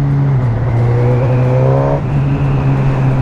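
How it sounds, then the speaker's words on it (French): A Suzuki GSX-S 1000 motorcycle with 145 horsepower and its stock exhaust drones loudly and steadily up close, with a brief rise in engine pitch before settling back into a constant hum. "Je suis vraiment étonné par la sonorité du pot d'échappement d'origine."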